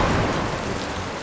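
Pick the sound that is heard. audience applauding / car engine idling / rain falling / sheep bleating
rain falling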